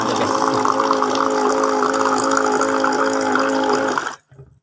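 Drinking water pouring from a spout into a container, a steady loud splashing and gurgling stream with a faint rising tone as it fills, cutting off abruptly near the end.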